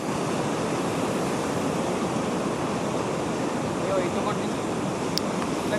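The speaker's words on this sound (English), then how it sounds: "But the waves are big." Big ocean waves breaking on the sandy shore of Calangute Beach in Goa, India, a steady, loud wash of surf roaring continuously without pause.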